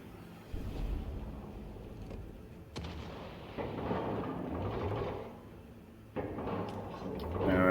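Battleship broadside artillery in a naval warfare video game: several deep booming salvos ring out at intervals, fairly distant and muffled, each followed by a rumbling tail.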